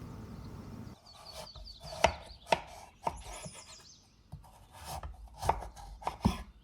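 A knife chops repeatedly through firm pumpkin flesh on a cutting board, sharp thuds at an uneven pace with scraping between cuts.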